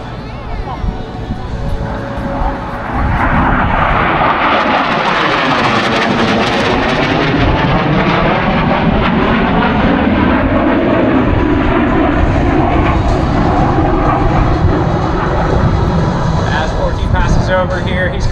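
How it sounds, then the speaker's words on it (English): A Marine Corps AV-8B Harrier jet sweeps low past an air show crowd at MCAS Cherry Point, its loud engine roar swelling and shifting in pitch as it passes, with a constant wash of crowd babble and an announcer's voice underneath. "he's coming around for the traditional low pass from your left to right"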